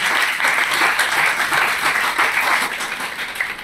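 Dense, steady applause from an audience at a public speech, continuing loudly and evenly throughout with no voices on top.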